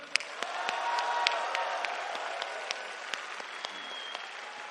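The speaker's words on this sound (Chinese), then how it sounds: "也请大家给我们的工程师最热烈的掌声" Sustained audience applause at a BYD launch event, a dense steady roar of many hands clapping with sharp individual claps standing out, loud and continuous throughout.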